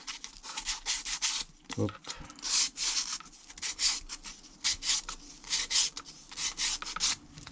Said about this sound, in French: Enlever un petit coup de ponçage quand même.